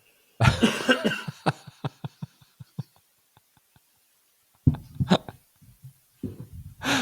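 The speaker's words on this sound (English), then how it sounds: "You're coughing now, right?" A fit of harsh coughs, several in a quick rapid series that trail off into short gasps, then a couple more coughs after a pause, close up.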